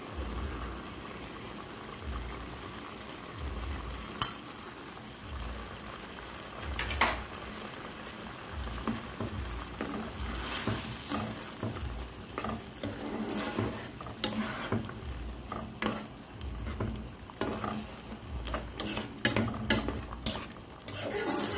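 Chicken curry with coconut milk simmers in a pan while a spoon stirs it, producing soft scraping and light clinks against the pot over a low bubbling sizzle, with no voices.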